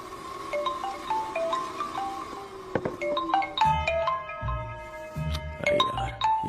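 An electronic ringtone plays a repeating pattern of bright melodic tones, fairly close and clear, over a low background hum.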